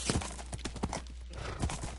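Rhythmic clip-clop of horse hooves in Minecraft, close and fairly loud, with a brief whinny mixed in.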